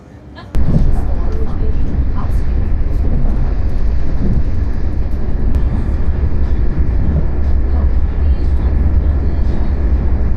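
An Irish Rail train on the Cork to Dublin Heuston service runs steadily, heard from inside as a loud, continuous low rumble and rolling drone with occasional clicks, starting abruptly and holding constant.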